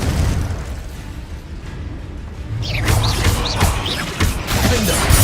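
A Confringo blasting spell detonates in Hogwarts Legacy, a loud fiery burst followed by crackling debris and several sharp impacts over continuous rumbling game noise.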